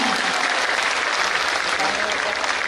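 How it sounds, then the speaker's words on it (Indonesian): A large seminar audience of thousands applauds in a dense, loud, continuous wash of clapping that fills the whole stretch without a break. "tepuk tangan untuk kita semua"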